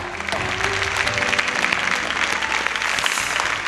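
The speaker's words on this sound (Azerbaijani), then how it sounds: "Alqışlar." Loud, dense audience applause, a continuous wash of clapping hands throughout, with a faint murmur of voices underneath.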